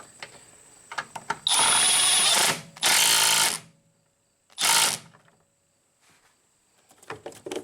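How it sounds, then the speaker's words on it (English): Someone tightens a ground wire nut on an Opel Astra: clicks, then three loud mechanical bursts of a second or less, with quiet gaps between them. "Let's try to get this nut on here nice and secure."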